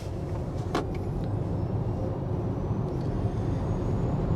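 Hyundai Ioniq 5 and Tesla Model Y electric cars accelerating hard in sport mode: a steady low road and wind rumble from inside the cabin with faint electric motor whine and a brief click near the start, no speech.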